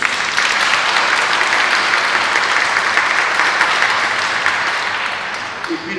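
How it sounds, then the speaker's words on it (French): Loud, steady applause from a church congregation at Saint Sixte II in Pérols, honouring a parishioner, filling the space for several seconds before tapering off slightly at the end. "On peut l'applaudir."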